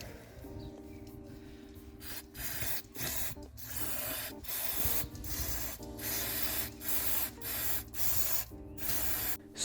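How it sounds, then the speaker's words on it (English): Brake cleaner sprayed in repeated hissing bursts onto the turbo banjo bolt of an Alfa Romeo Giulietta or MiTo 1.4 engine, the close, loud blasts separated by short pauses and light rubbing sounds. "Lastly, I'm gonna clean everything with a brake cleaner."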